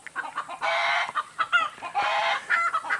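Hens and a rooster clucking and squawking in agitated bursts as a snake threatens them, with loud overlapping cackles rising and falling for the whole stretch.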